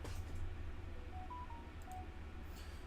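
A phone going off with a short run of electronic tones, several brief beeps in a rising-and-falling pattern, fairly faint over a steady low hum in the background.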